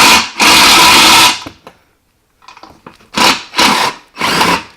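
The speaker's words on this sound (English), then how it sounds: "so you can get your drill in there if you have to." Cordless power drill spinning out plastic bumper fasteners on an off-road truck's rear bumper: a long loud whir, a pause with faint clicks, then three short bursts of the drill in quick succession.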